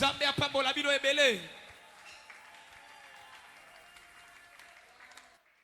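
A church congregation applauding for the Lord, with a speaking voice at the start before steady clapping carries on at moderate distance and gradually fades.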